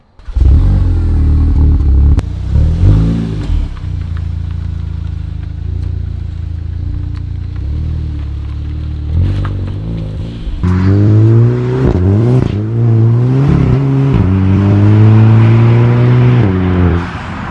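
Volkswagen Scirocco engine revving loudly up close, a low idle broken by short blips, then a longer sustained rev with rising and falling pitch, no talking.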